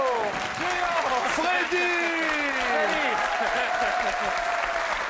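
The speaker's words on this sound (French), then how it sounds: "On applaudit également Julio!" Audience applause on a French game show, a steady broad wash of clapping filling the whole stretch while a host's voice calls out and talks over it.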